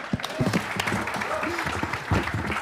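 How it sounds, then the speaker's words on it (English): Audience applause at a San Francisco AI startup demo night, a steady round of clapping with a voice talking over it. "All right, round of applause."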